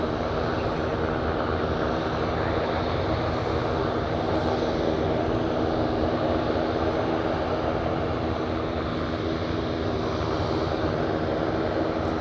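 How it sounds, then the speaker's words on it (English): UPS Boeing 747 taking off at Anchorage airport, heard as a steady, loud, broadband jet engine roar that holds throughout, no talking. "Seeing the 747 take off like this."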